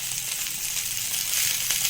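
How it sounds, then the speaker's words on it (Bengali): Bhetki fish wrapped in banana leaf frying in oil as a steady, bright sizzling hiss with faint crackles, continuous and fairly close throughout. "এবার কলা পাতায় মোড়া মাছগুলো ভালো করে ভেজে নিচ্ছি"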